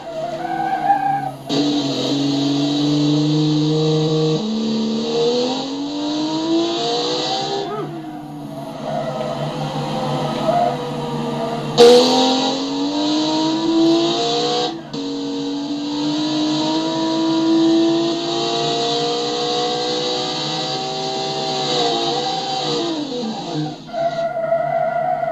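Wall W-12 drift car in the BeamNG driving game, engine revving loudly with tonal whine that rises and falls through long slides, steady and close throughout with brief tire squeal.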